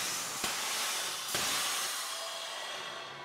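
A Hunter Fast Blast rail-mounted tire bead seater releases a loud, broad hiss of air with two sharp bursts, then a sustained rushing blast that slowly tapers.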